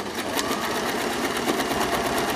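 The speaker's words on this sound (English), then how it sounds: "we shall just do a straight stitch and sew through" A sewing machine runs a steady straight stitch for shirring fabric, a continuous close mechanical whir with rapid even needle ticking throughout, alone with no talk.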